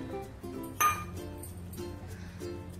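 Sago pearls and barnyard millet tipped into a pan for dry roasting, giving a bright glassy clink and a short scattering patter near the mic, with faint kitchen hum underneath.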